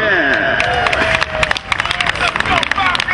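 Stadium crowd at a high school football game, Seoul American versus Daegu, clapping and cheering in a dense sustained burst, with a voice over the public address system riding above the noise.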